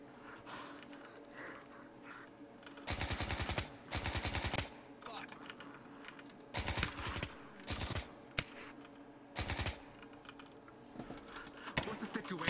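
Automatic gunfire in a police patrol video game, several separate bursts of rapid shots, each lasting about a second, against quiet background ambience.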